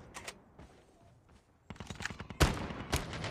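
Gunfire in the Call of Duty Mobile battle royale shooter, a few sharp shots with sniper fire among them, the loudest two cracks near the end over quieter game noise.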